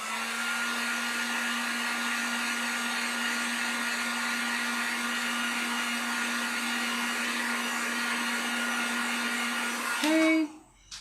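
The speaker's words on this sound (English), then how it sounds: "This one is going to need just a little bit of help with the heat gun." A heat gun blows steadily on acrylic paint, a loud, close, continuous whoosh with a hum that cuts off abruptly near the end.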